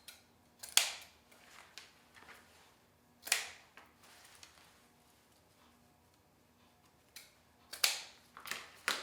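Scissors snip through 1.5-inch ribbon at an angle while a Halloween wreath is being made, giving a few sharp, quiet cuts spaced out across the stretch with faint background hum between them.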